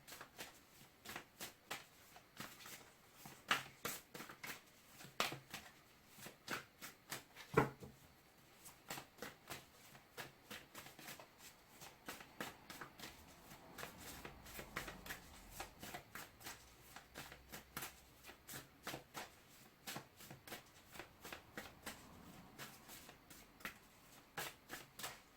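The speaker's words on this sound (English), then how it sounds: "Say 3 more shuffles and I will take one from the top" Tarot cards being shuffled by hand, a run of crisp riffling flicks and soft slaps in quick uneven bursts, close and fairly quiet, with no talking.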